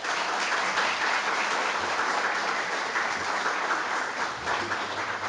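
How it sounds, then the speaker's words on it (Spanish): Steady, full applause from a seminar audience welcoming a professor to speak on Peru's seismic design standard, a dense wash of many hands clapping that continues evenly throughout with no talk over it. "Por favor, aplausos para..."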